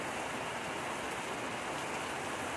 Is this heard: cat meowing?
no